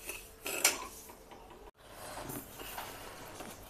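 Wheat grains being dry-roasted in a pan, a soft rustling scrape with a sharp metallic clink of utensil against pan partway through, quiet and close with a brief gap of silence.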